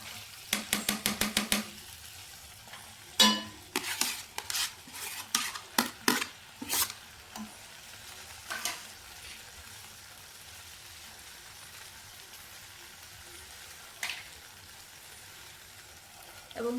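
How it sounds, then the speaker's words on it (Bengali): Boiled meat added to fried spice masala and stirred in a pan, a series of sharp metallic spoon scrapes and clanks in bursts over a faint low sizzle, with sparse clatter later. "আমি মশলাটাকে বেশ ভালোভাবে কষিয়ে নিয়েছি এবার এতে আমি মাংসগুলো দিয়ে দেবো"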